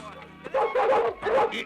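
A newly acquired dog in a Tamil film comedy scene gives several loud, close barks and yips in quick bursts while it strains against its leash.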